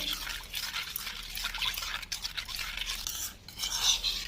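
Hair dye paste being mixed with leaf in a bowl, a steady wet scraping and stirring rasp that continues close and moderately loud with brief pauses.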